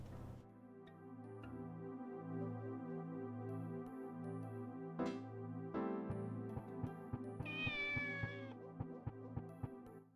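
A kitten in the video game Shenmue lets out a faint, drawn-out meow partway through, over a soft, steady musical background and light ticking sounds.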